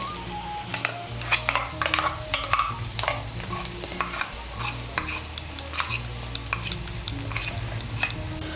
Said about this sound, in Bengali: মিশিয়ে নিয়ে পটল আর মুসুর ডালটাকে আর একটু ভালো করে ভেজে নেব।